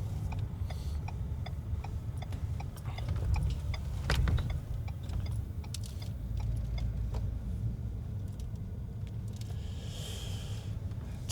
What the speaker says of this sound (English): unless this car's pulling in as well, which it is not, because it is the police